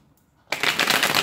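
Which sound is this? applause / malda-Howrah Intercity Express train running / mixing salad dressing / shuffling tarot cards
shuffling tarot cards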